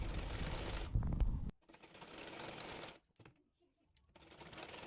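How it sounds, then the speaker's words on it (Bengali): A sewing machine stitching fabric for a baby frock, with a rapid mechanical whirring that runs, stops, briefly restarts, and then falls quiet before picking up again at the end. "চাপ সেলাই দিয়ে নেব।"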